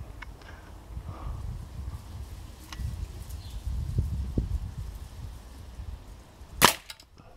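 A single shot from a Sig Sauer P226 4.5mm CO2 air pistol, a sharp sudden crack near the end, close and loud over quiet outdoor rustling.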